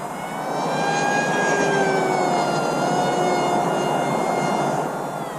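An RMRC Strix Goblin RC plane flies overhead, its electric motor giving a steady, moderately loud whine with shifting pitch as it passes, sustained for several seconds with no talking.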